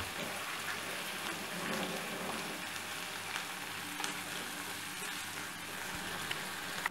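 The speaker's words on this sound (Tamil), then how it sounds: "வெங்காயம் வதங்கிருச்சு" Onions with a green chili and chili powder frying in a pan for Tamil kara chutney, a continuous soft crackling sizzle like light rain, steady and fairly quiet throughout with no voices.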